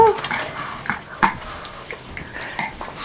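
A mother dog plays with her puppy, giving soft whimpers, yips and brief snuffling sounds close by, with light household noise and faint voices around.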